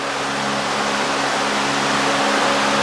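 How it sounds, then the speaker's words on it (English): Cooling fans run in a workshop with a loud, steady broadband whoosh and a low tonal hum underneath, constant throughout. "I do apologize for the noise of the fans."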